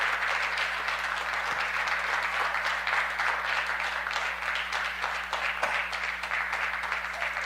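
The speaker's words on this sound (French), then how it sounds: "Et applaudissez le Seigneur." A church congregation applauding together, steady dense clapping that fills the whole stretch without a break, loud and close, with no talk over it.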